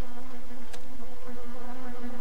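Bees from The Grinch video game buzz loudly and continuously as they chase the player, a steady droning hum throughout with no talking.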